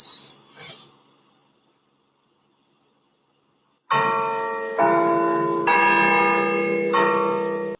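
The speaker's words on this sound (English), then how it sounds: "I like watching bell tower videos." Large church bells in a bell tower ring out in a series of overlapping resonant strikes, each new toll layering over the ringing decay of the last, following a couple of brief breathy noises and a quiet gap.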